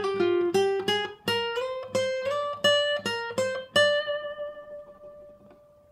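A Mixolydian electric guitar lead lick with pull-offs and hammer-ons rings out over cellos, a quick run of plucked notes that ends on one long sustained tone fading away, with no talking.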